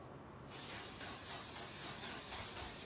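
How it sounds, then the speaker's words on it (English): Continuous spray hissing from an aerosol or spray bottle begins abruptly after a brief quiet moment and holds steady and close for over two seconds. "we're gonna spray"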